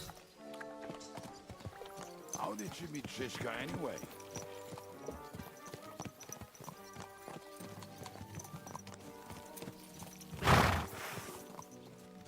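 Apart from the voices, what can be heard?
horse hooves clip-clopping while riding, from video game Kingdom Come: Deliverance 2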